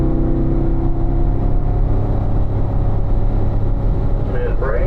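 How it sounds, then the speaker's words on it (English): A race car engine on track, held loud and steady as it winds up toward fifth gear, a constant droning roar with a voice speaking over it throughout. "Wind it up to 5th gear."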